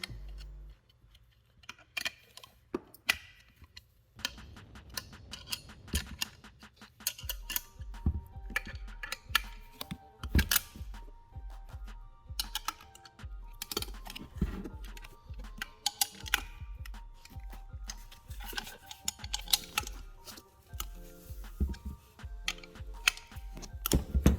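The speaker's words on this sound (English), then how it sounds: "So with a 13 millimeter, we're going to loosen up the bolts that hold the clamps from the housing." A 13 mm wrench loosening the turbo clamp bolts on an S197 V6 Mustang, heard close as a long run of quick rhythmic ratchet clicks in bursts, with short gaps and a metallic clank.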